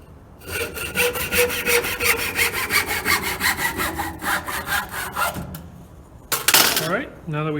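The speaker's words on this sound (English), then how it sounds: "we're going to start by cutting this to 5 inches long." Handsaw cutting a small piece of wood to length for a whistle, with steady rhythmic back-and-forth strokes, close and loud, ending with a brief clatter as the piece comes free.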